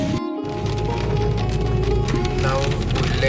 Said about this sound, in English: It's raining too heavily here.